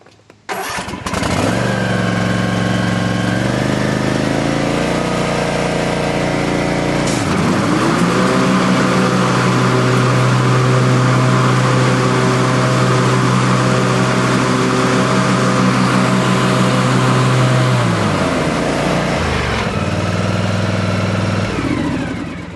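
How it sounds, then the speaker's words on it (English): A gas zero-turn mower engine cranks and starts, then runs loud and steady with the mowing blades engaged, a constant mechanical drone throughout before it winds down near the end; no talking. "This is an Aaron's Icon zero-turn mower. So we're going to fire this up, put the blades on, and see how it registers."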